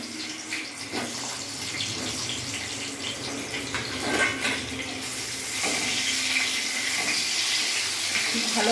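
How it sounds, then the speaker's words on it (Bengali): Pieces of pointed gourd (potol) fry in hot oil in a home kitchen, a steady hiss and crackle with sputtering pops that grows brighter and louder partway through, with a voice speaking faintly now and then. "তেলটা আমার গরম হয়ে গেছে, আমি এবার পটলগুলো ভেজে তুলে নেব।"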